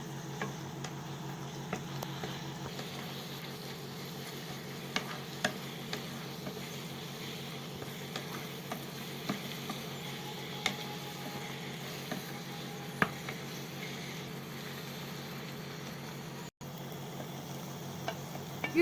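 Spices mixed in a cooking pan for a spinach and egg dish, a continuous low sizzle with light scattered ticks and scrapes of a spoon, no voices.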